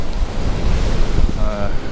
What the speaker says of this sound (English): Wind's definitely got up.